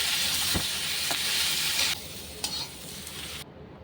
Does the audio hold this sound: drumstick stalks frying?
yes